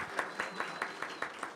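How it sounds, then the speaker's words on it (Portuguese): Quiet, sparse applause at a corporate event in an office, a handful of distinct claps in an even rhythm, faint and close. "E uma salva de palmas"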